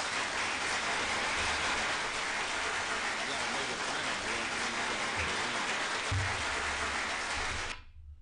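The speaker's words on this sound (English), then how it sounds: "You know they're clapping it up for our guests" Steady audience clapping for a guest on a live radio stream, a dense, moderately quiet patter of hands running continuously before cutting off abruptly near the end, with faint low rumbles beneath.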